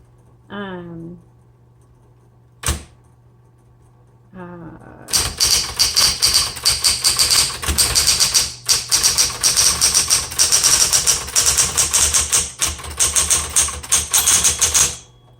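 After a couple of brief voice snippets and a sharp clack, rapid keystrokes on a 1960s Smith Corona Electra 110 electric typewriter hammer away in a fast, steady clatter that continues to the end.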